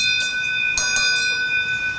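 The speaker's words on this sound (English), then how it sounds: "there are many of these metal bells along the way, since supposedly the bears do not like these kind of metal sounds" Metal bear bells hung along a mountain trail in Japan ring with bright, sustained metallic tones, struck a few times in quick succession, their clear pitches lingering over a low outdoor rumble with no voices.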